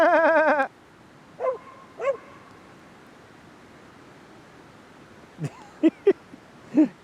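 A played goat bleat opens, followed by a dog's scattered barks and yips at close range, with short bursts separated by long quiet gaps at a campsite after rain.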